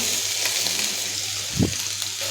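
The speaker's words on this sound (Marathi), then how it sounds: "आता हे मिरची लसूण आहे ते परतून घ्यायचं आहे गॅसची फ्लेम कमी ठेवायची" Chili and garlic paste sautés over a low flame in a pan with already-spluttered mustard seeds. It makes a steady, close, loud sizzle with one soft low thump midway, for besan vadi.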